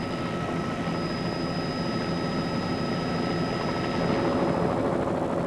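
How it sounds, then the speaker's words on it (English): Steady, loud rotor and engine roar of a helicopter in flight over a river steamboat race, continuous throughout with a constant high whine. "It took a helicopter just to catch up"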